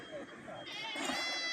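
A goat bleats once at a goat market, a wavering, nasal cry that rises and holds, heard faintly over low background murmur.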